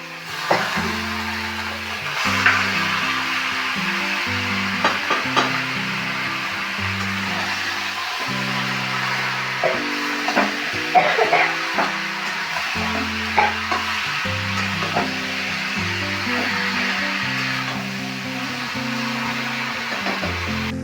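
Cabbage and potato pieces frying in an oil-based spiced masala, with a steady loud sizzle and repeated clanks of a spatula stirring the pan, while music plays underneath throughout.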